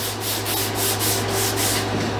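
Hand sanding across scratches on a wooden gun stock, a steady raspy back-and-forth rubbing in regular strokes about every quarter second, close up over a low electrical hum.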